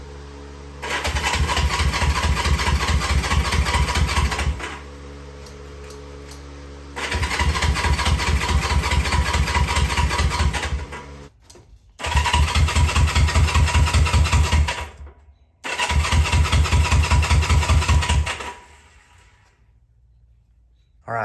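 A Honda CL350 motorcycle engine cranks and starts in a garage, running in several loud sustained bursts that cut out between attempts, each stretch a steady idling drone.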